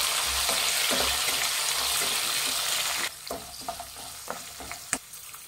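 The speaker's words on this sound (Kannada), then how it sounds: "ಎಣ್ಣೆ ಜೊತೆ ಬಟಾಣಿ ಹಾಕ್ತಾಯಿದ್ದೀನಿ, ಒಂದು 4 ಟೇಬಲ್ ಸ್ಪೂನ್ ಅಷ್ಟು. ಇದು ಅಷ್ಟೇ ಎಣ್ಣೆ ಜೊತೆ ಫ್ರೈ ಮಾಡಿ." Capsicum and dried peas fry in oil with a dense, hissing sizzle that suddenly drops to a quieter crackle, while scattered scraping and tapping from stirring sounds close by.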